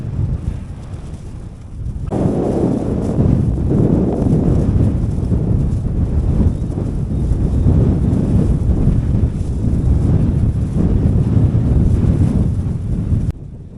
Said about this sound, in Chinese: 这一天呢，光吹风了。